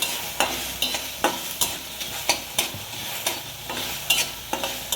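Mung dal dry-frying in a pan, stirred with a spoon that scrapes and taps at a quick, even pace over a faint sizzle, close and clear without talking.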